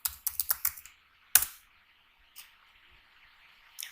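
Quick burst of keystrokes on a computer keyboard, a rapid run of crisp clicks followed by a single hard tap and two lighter, spaced key presses in a quiet room.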